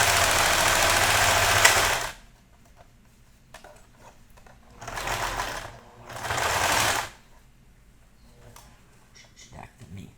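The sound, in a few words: sewing machine stitching a baby teether toy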